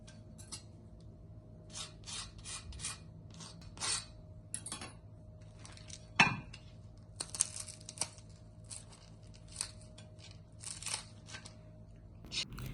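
Crisp crackling and tearing sounds of a crispy benne dosa being torn, short bursts of several sharp rips spaced irregularly, close up against a quiet background with a faint steady hum.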